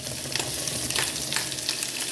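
Sausage fries in a pan with a steady, close crackling sizzle and occasional stirring pops, continuous throughout and without speech.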